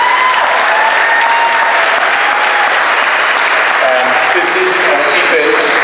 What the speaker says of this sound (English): Morgan English, give her a round of applause.